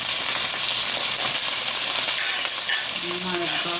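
Onions and celery hit a hot pan for a shepherd's pie and sizzle loudly and steadily right up close, a dense crackling hiss. A few light utensil clinks come in near the end.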